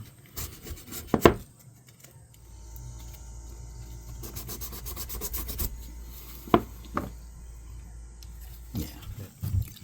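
Old fishing knife blades are polished with fine-grit abrasive, producing close rhythmic rubbing and rasping strokes in bursts, with a few sharp knocks between.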